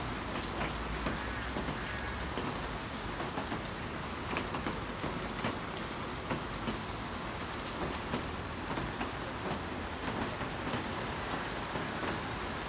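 Steady rain hisses evenly throughout, a dense, constant patter with faint rumbling underneath and no voices.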